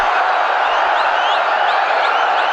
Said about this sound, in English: And listen to this crowd now.